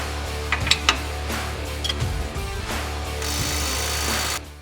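An impact wrench on the nut side removes shock hardware from a Polaris RZR, with a few sharp knocks and tool handling, then a loud sustained rattling burst of about a second up close.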